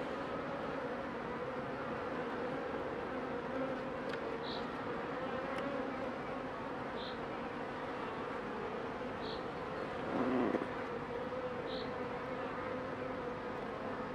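Honeybees at a beehive hum in a steady, low drone throughout, fairly soft, with a few individual bees buzzing slightly closer now and then.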